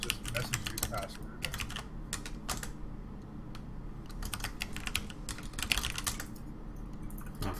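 Fingers tap out a password on a computer keyboard in bursts of quick clicky keystrokes with short pauses, close to the mic, with faint background hum and some low talk mixed in.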